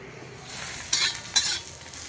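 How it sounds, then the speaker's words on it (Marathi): Onion roasts in a pan for kala masala, a soft steady sizzle with a couple of brief scraping stirs, close and moderately loud with no talking. "आता आपण कांदा भाजून घ्यायचा"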